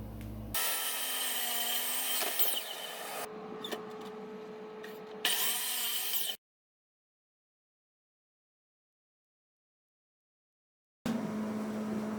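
Wooden trim pieces for a door are cut with a saw in a workshop, giving two stretches of loud, steady cutting noise with brief pauses, then a long silence before another burst of cutting starts near the end.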